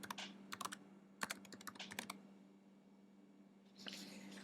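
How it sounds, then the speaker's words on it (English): Typing on a computer keyboard: faint, close key clicks in quick bursts and pauses, entering a search in an application, with no voices. "When I type in iTableAmount,"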